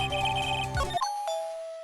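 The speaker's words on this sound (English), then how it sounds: "Ding dong. Someone's at the door." A two-tone ding-dong doorbell chime from the Ace Attorney video game rings out clearly over soft background music, the second tone ringing on and slowly fading.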